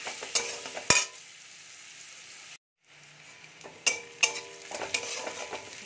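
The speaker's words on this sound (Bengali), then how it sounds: "পেঁয়াজটা ভাজা ভাজা হয়ে গেছে।" Onions frying and being stirred in a pan, with sharp scraping and clinking strokes of the spoon over a soft sizzle, broken by a brief silent gap partway through.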